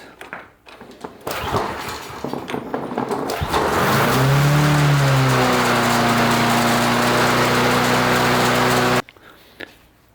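A small engine on a little cart, just after its carburetor was cleaned in an ultrasonic cleaner, is pull-started with brief rattles, then catches and runs loud and steady close by for several seconds before cutting off abruptly.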